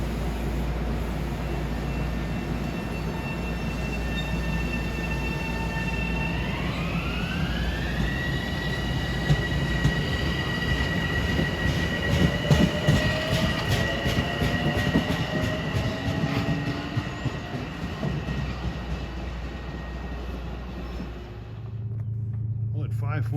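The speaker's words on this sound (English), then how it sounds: "approaching his train 851 en route from Grand Central to Poughkeepsie" Metro-North train 851 running from Grand Central toward Poughkeepsie near Ardsley-on-Hudson, a steady loud rumble with a rising horn-like tone and clattering wheels over much of the clip, fading out at the end.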